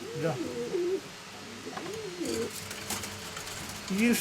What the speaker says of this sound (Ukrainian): Дивися, які голуби. Це такі голуби, так?